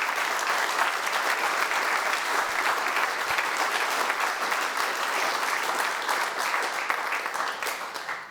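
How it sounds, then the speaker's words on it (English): A conference audience applauds loudly and steadily for the full length of the clip. It is a thick, even wash of many hands clapping in a hall, with no pauses. "give a rapturous round of applause for our export team"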